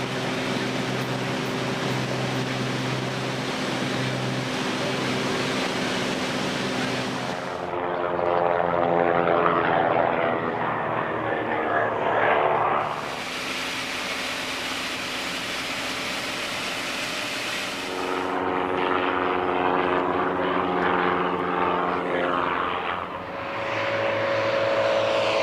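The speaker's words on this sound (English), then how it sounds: "There were many races within the race, with aircraft dipping below each other as they turned over the airfield." Propeller aircraft in an air race over an airfield, engines droning and swelling as planes pass overhead in repeated waves, loud and close, with buzzing harmonics fading between passes.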